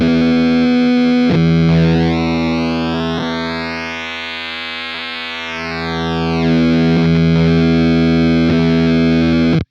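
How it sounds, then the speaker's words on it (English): Electric guitar through a FruitFX Melon Cube fuzz pedal, with its frequency filter sweeping from thick to thin: a loud, sustained, buzzy distorted chord whose tone glides thinner, then back to a thick, woolly fuzz. "you're gonna hear a fuzz that's more similar to a fuzz pedal you might be familiar with"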